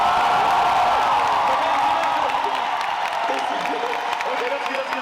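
A premiere audience in a venue breaks into clapping and cheering on request, a dense continuous wash of applause with scattered whoops and crowd voices, loud throughout.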